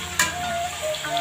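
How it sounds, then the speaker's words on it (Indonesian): Cassava pieces sizzle softly in hot frying oil, a brief close-up crackle with a single sharp pop near the start. "cocok nih goreng singkong simple"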